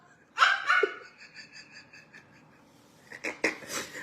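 A dog at a home kept as a guard gives a couple of short, close yelps or whines, separated by a quiet stretch with faint breathing.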